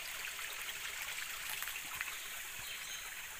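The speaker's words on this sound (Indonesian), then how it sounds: "Ini saya sekarang berada di salah satu sungai kecil di sini" A small river stream flows steadily, a continuous bright babble and trickle of water heard close by, with faint bird calls in the background.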